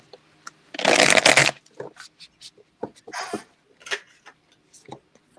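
Tarot cards shuffled close by, starting with one loud dense riffle, then a second softer burst and scattered light card taps and slides.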